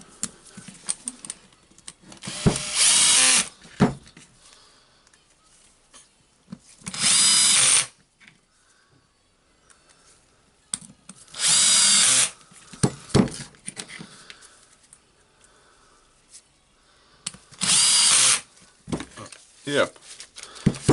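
A Milwaukee M18BPD 18V cordless drill, freshly fitted with a replacement motor, whirs loudly in four short test bursts of about a second each, separated by quiet stretches with handling clicks and occasional talking.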